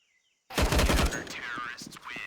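Close burst of rapid gunfire in a Counter-Strike match on the Ancient map, starting abruptly after brief silence, then a tonal game sound with a commentator's voice talking over it.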